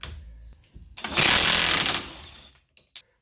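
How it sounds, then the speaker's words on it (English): A broken front wheel bearing on a rusty car hub grinds loudly for about a second as the wheel spins, a harsh rough whir that fades out and is followed by a brief quieter scrape. "Now you can see and hear more clear the broken wheel bearing."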